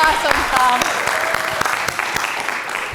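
Audience applause at a community summit after a haiku reading, a short steady round of clapping heard nearby with some voices mixed in.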